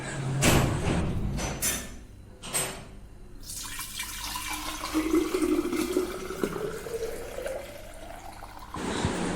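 A drink being poured into a jug, heard as a steady close splashing pour of liquid after a few clatters, with the pitch rising as the jug fills, then a short clunk at the end.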